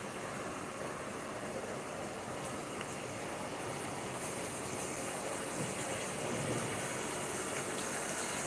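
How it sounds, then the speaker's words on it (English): A pot of Ghanaian jollof sauce with curry powder boils with a steady, close bubbling hiss that keeps a constant level throughout. "So now our sauce is boiling."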